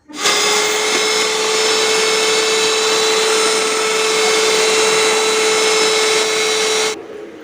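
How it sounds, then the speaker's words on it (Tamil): An electric hand beater whips cream for a white forest cake, a steady, loud, unbroken motor whine with a fixed pitch that runs for about seven seconds before cutting off. "அதே அளவுக்கு விப்பிங் க்ரீம் எடுத்து இதை நல்லா நம்ம பீட் பண்ணிக்கலாம்"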